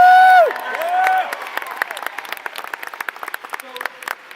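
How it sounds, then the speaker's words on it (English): Audience applause at a convention panel, a burst of crowd clapping with a few cheers that rises after a short shouted whoop and carries on at moderate volume with scattered talk underneath. "let's give them a round of applause, guys"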